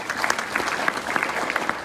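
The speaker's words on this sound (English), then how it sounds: "let's give a round of applause for LoyalCoin" Audience applause at a university blockchain expo, a steady dense patter of many hands clapping for the whole short stretch, fairly close and moderately loud.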